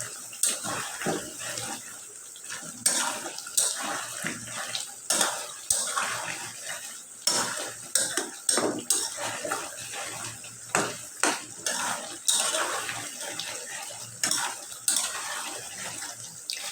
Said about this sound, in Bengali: ভালো মতো এটা কষাই নেব